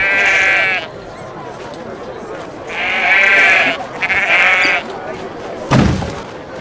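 Goat bleats from the video game Jesus, set in a temple market: loud, close, wavering cries in three separate bursts, with a thud near the end.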